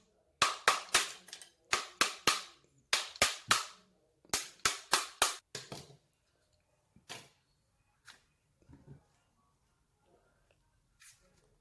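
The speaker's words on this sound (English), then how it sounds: "Use a heavy object like hammer or anything to crack the coconut." Hammer strikes a coconut shell in quick clusters of sharp, hard cracks, about twenty blows in rapid bursts, then a few scattered fainter knocks and handling sounds close by in a quiet room.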